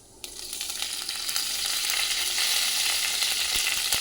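Cumin, mustard seeds and chopped green and red chilies hit hot oil for a restaurant-style dal, bursting into a loud, dense sizzle that starts abruptly and holds steady, close by and alone.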